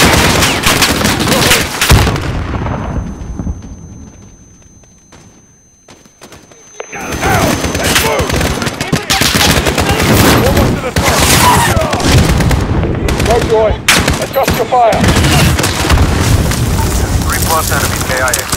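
Dense gunfire and heavy explosions in the Call of Duty Modern Warfare battle mission Into the Furnace, with loud sustained bursts, booms and a brief lull before the firing surges again, under shouted voices.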